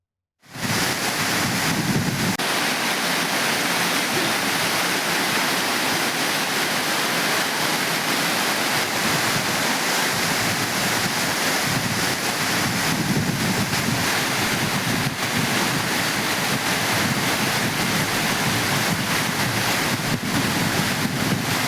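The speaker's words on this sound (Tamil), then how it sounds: "குற்றாலம் மெயின் அருவி, ஐந்தருவி, பழைய குற்றாலம் உள்ளிட்ட அனைத்து அருவிகளிலும் நீர்வரத்து அதிகரித்திருக்கிறது" Kutralam main waterfall in Tamil Nadu in full flow after heavy rain, a loud, steady, continuous roar of rushing water that fills the whole recording without a break.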